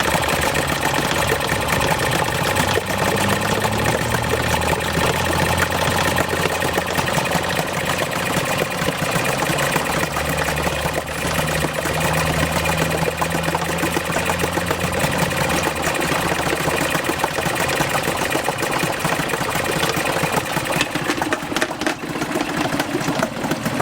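A Yamaha 4hp outboard motor starts and settles into a steady idle, running continuously at close range with a rough, knocking mechanical beat throughout and no talk over it.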